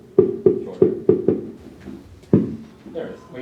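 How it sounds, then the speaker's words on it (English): Very short musical notes of only a couple of oscillations, sounding like dull percussive knocks: five evenly spaced thumps in quick succession, then a pause and one more, close and fairly loud with faint background noise. "It's like a percussive sound."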